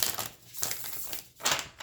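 Tarot cards are shuffled by hand during a Leo reading, giving a few quick papery riffles and crinkles in short bursts, close and fairly quiet with no talk.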